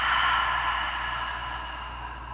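A long, steady breath out during a calm yoga practice, broad and airy, close and fairly loud, slowly fading over about two seconds, with no talking.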